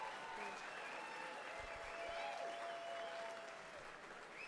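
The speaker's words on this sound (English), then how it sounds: "please, a huge round of applause to our MC, Kiralee Waldhorn" Audience applause at the 2022 Australian International Beer Awards ceremony, a steady, dense round of clapping filling the room throughout, with faint crowd murmur underneath.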